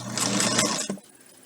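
A sewing machine stitches fabric for a bowl holder one-eighth inch from the edge, a rapid close whirring run that stops abruptly near the end.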